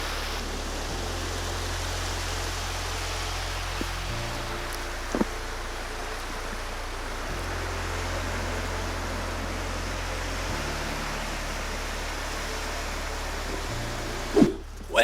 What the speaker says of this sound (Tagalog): Grabe, nakaka-relax yung tunog ng mga alon.